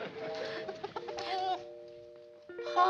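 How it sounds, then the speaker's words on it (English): A bantam rooster clucks in short bursts, close and clear, with a few drawn-out tonal calls between the clucks. "how about Earl, my Benny Rooster that plays dead"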